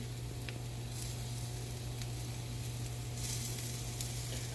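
Chicken pieces frying in a pan on the stove, giving a steady, continuous sizzle at moderate level with a low hum beneath, no voices.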